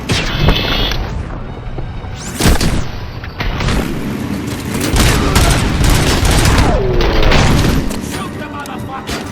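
Heavy gunfire in the video game RoboCop: Rogue City, with loud booming shots and rapid bursts layered over a dense, continuous roar of combat and explosions.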